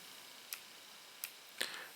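Three faint, sharp clicks sound at irregular intervals as the command dial of a Nikon D5200 camera is rotated, close and alone in a quiet room.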